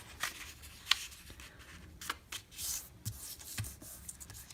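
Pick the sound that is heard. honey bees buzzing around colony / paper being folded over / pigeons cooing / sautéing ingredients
paper being folded over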